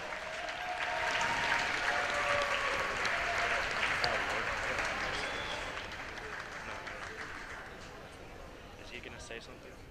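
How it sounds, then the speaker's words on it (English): Audience applause at a high school athletic signing event for football signees, a sustained wash of clapping from a crowd that holds steady for most of the stretch and slowly tapers toward the end. "Let's give another round of applause."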